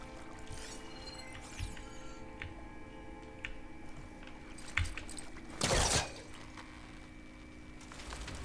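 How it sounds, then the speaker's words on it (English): Waterfall draining in the game Horizon Forbidden West, a faint continuous watery rush with scattered drips and one brief louder surge of gushing water. "Waterfall draining."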